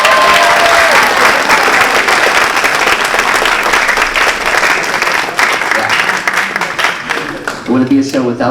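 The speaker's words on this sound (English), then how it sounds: "Give a round of applause to them." An audience at a high school wind symphony concert applauds the lighting technicians, with dense sustained clapping and crowd noise that tapers near the end as a voice begins speaking.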